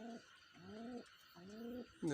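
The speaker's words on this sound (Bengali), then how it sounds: "এখানে আমার কবুতরগুলো দেখতে পাচ্ছেন সবাই" Hyderabadi blue pigeons in a loft give three soft, rolling coos in an even rhythm, fairly close and quiet, with another coo beginning at the end and no speech.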